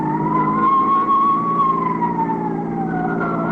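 Ambulance and emergency squad siren in an old-time police radio drama, a loud, steady wailing tone that rises and falls slowly across the whole stretch, heard alone with no voices.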